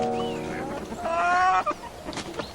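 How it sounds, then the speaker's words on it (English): Hens from a small backyard flock, kept alongside ducks near Romsey in rural Hampshire, cluck and call in a brief burst of varied squawks and tonal notes, close by and fairly loud with no talking. "she has lots to keep her busy, including a small flock of hens and some ducks."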